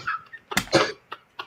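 A man coughs while drinking, giving a few short, close, sputtering coughs in quick bursts with small noises in between, live during a podcast show.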